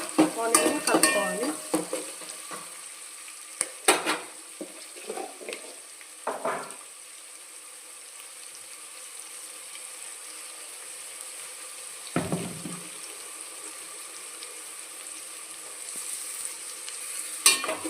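Ginger garlic paste frying in a pan until brown, with a steady faint sizzle under intermittent stirring scrapes and clatters, mostly without talk.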